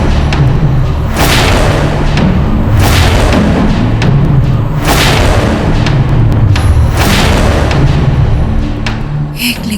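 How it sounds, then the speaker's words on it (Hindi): Cannon fire booms out in a Mughal battle scene, several loud heavy blasts arriving in quick succession over a continuous rumbling din, with no speech. "मुगलों ने तोप क्यों चलाई और किस पे?"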